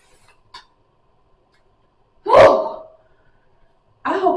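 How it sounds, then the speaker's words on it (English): Two short hissing bursts of setting spray misted from a bottle onto a face, a brief faint puff followed by a longer, louder spritz, then another spray at the end, close and otherwise quiet. "I've been trying to spray more setting spray to like help with transfer"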